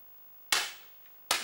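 Two sharp air pistol shots at a women's 10m air pistol final at the 2013 ISSF World Cup in Munich, loud and close, spaced under a second apart with a quick decay, and no talk.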